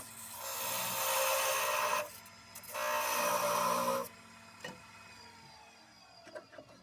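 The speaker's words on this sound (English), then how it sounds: "I use a parting tool to cut the head of the rattle in half" A parting tool cuts into a spinning wooden baby rattle head on a lathe, giving two sustained bright rasping passes of about two seconds each, then a few short scrapes and quieter taps, close and with no talking.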